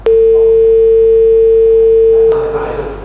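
A steady, loud telephone busy or disconnect tone sounds after a call drops on a Thai TV program, holding one unbroken pitch for nearly three seconds before a faint burst of background noise near the end.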